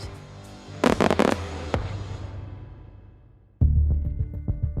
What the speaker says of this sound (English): It's Halloween after all, and fireworks are common.